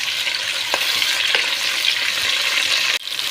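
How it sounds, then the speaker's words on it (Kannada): Onion and tomato frying in a pan for vegetable pulao, a steady, loud sizzle with a few faint stirring scrapes and a short knock near the end. "ನಂತರ ಈರುಳ್ಳಿನ ಹಾಕಿಬಿಟ್ಟು ಫ್ರೈ ಮಾಡ್ಕೊಳ್ಳಿ. ಟೊಮೊಟೊನ ಹಾಕ್ಕೊಳ್ಳಿ. ಹಾಕಿ ಸ್ವಲ್ಪ ಫ್ರೈ ಮಾಡಿ,"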